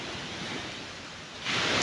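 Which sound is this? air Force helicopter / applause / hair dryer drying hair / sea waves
sea waves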